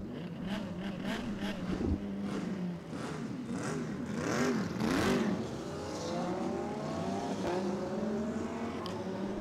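V8 race car engines roar and rev together on a warm-up lap at Chang International Circuit during the 2017 Thailand Super Series, with rising and falling pitch as cars pull away, loud and continuous over faint crowd and track ambience.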